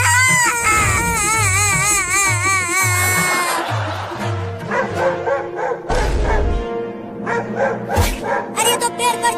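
A cartoon dog barks in a rapid series of yaps while trying to climb a tree, with wavering high-pitched voices and whimpering sounds layered over the barking, loud and close.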